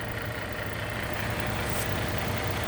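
A 2007 Chrysler 300 with a 3.5 liter engine idles steadily and close by, a low continuous rumble with no talking.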